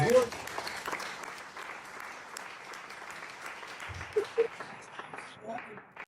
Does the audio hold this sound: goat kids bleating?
no